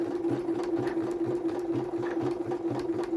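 A Pfaff sewing machine fitted with a beading foot stitches through light stretch denim, a steady close mechanical hum with a fast regular rattling pulse running evenly throughout, no talking.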